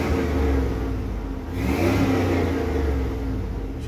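An OBS Chevrolet C1500 pickup truck engine runs close by, a steady mid-pitched idle with a whirring fan that swells briefly as the revs rise.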